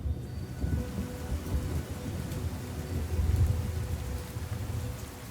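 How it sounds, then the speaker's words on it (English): Torrential rain pours down steadily in the wild lowland forest of Venezuela, a dense, continuous hiss with a deep low rumble of thunder rolling beneath it throughout. "The rain comes, slow, then persistent, and finally torrential."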